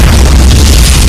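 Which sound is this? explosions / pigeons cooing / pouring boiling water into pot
explosions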